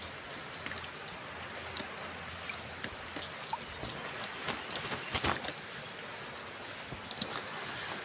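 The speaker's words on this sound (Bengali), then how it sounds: "আমাদের এদিকে প্রচণ্ড বৃষ্টি হচ্ছে।" Steady rain patters continuously with scattered heavier drops, a constant hiss at moderate loudness and no voices.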